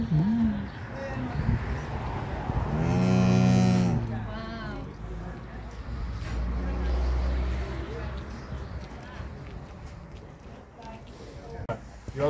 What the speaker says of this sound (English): Cows. This cow is very beautiful.